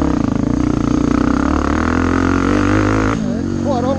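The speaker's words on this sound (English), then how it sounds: "For those who don't know, this is Nick's Yamaha, the TTR250." A Yamaha TTR250 dirt bike runs on an enduro trail, its engine a steady mid-level drone throughout with a slight shift near the end, under light talk.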